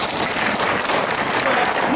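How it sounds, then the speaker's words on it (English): An audience at a hypnosis show at a psychic expo bursts into dense, loud applause that holds steady for a couple of seconds, a thick wash of many hands clapping at once. "Give them a round of applause."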